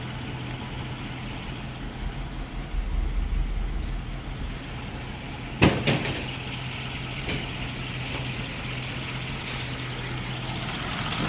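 A 1937 Packard 120C straight-eight idles steadily indoors with a low, even rumble. One sharp knock or clunk cuts in partway through, and no one speaks over the engine.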